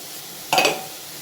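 A single scrape and clink of a spoon stirring an onion-tomato masala with chili and turmeric powders in a pan, set against a soft steady sizzle of frying.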